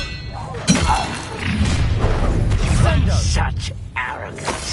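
A spell blast in the Hogwarts Legacy video game on PS4, a shattering thump with a whooshing crash that rings out loud and sustained over a busy battle mix with voices.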